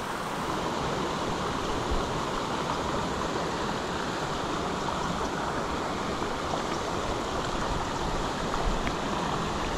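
A crystal clear spring creek flows in a steady, broad rushing wash, loud and unbroken throughout with no voices.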